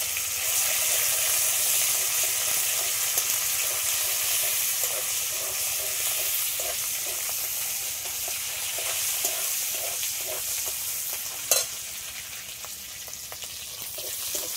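Hot leftover fish oil from frying rohu sizzles steadily in a pan with whole five-spice tempering, a continuous close bright hiss with faint stirring scrapes and one brief clatter near the end.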